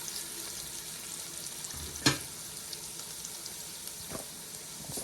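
Garlic frying in a pan over medium-low heat for a chicken stew gives a soft, steady sizzle, with a sharp utensil knock near the start and a fainter one later.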